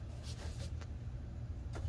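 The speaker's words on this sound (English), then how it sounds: "it's kind of hard right now because I just turned the car on" A car fitted with a Tomei exhaust and a 7-inch extension runs just after being started, giving a steady, close, low rumble throughout.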